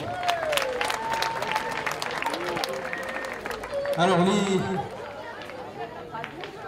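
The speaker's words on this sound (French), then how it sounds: "On peut les applaudir." Crowd applause for young pétanque players at a world youth triplettes event in Romans, scattered clapping mixed with chatter and a voice speaking, rising briefly into a fuller burst of clapping before easing off.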